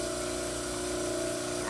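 A dental model trimmer grinding a plaster cast gives a steady, loud motor whine and abrasive hum throughout, with a voice speaking over it.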